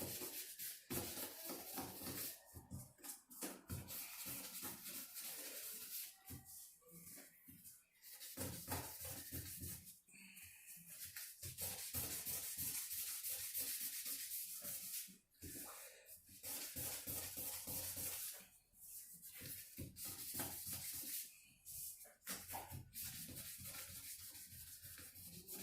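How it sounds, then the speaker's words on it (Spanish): Hand sanding of a wooden craft piece, a steady close scratching rub in long continuous strokes with brief pauses between passes. "terminamos con el lijado."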